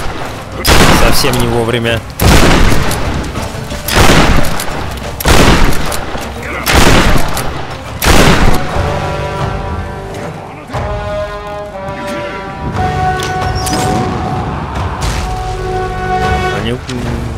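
Bursts of enemy gunfire in the 2013 Tomb Raider video game, repeated volleys of loud shots every second or two, then a sustained rattling stretch with a musical drone beneath, while someone talks over the action.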